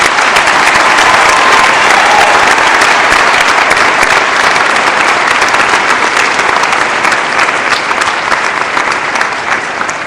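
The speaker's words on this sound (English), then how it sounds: "Give them a round of applause here, too." A commencement audience in Missouri applauds the Specialist in Education degree candidates with dense, sustained clapping. It is loud and steady across the whole stretch, with only a slight easing near the end.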